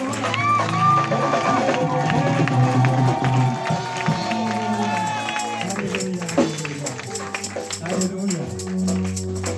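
A church congregation cheers and acclaims, mixing raised voices, shouts and some clapping, loud and crowded, with tonal singing or chanting woven through the noise.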